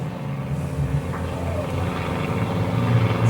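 Steady low rumble of road traffic passing outside a garden, a continuous broad drone at moderate level with no talk.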